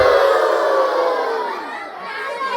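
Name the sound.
audience shouting together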